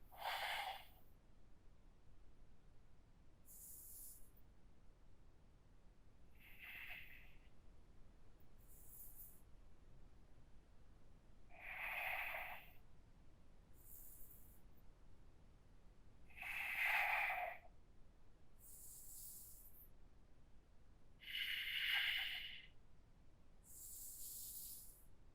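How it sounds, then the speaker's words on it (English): Slow, deep breathing during a yoga session comes as long, airy breaths at regular intervals of several seconds, close and soft, each a smooth hiss, over a quiet background with no talk. "Let your inhales be smooth, slow, and complete."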